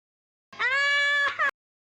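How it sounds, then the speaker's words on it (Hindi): An animated cartoon baby gives one drawn-out, high, wavering wail lasting about a second, ending in a short hiccup-like sob, alone against silence. "ये बच्चा रो रहा है"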